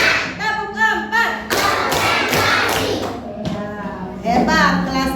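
Children in a third-grade primary school class clap in rhythm, sharp bursts of claps broken up by children's voices chanting along, fairly close and loud.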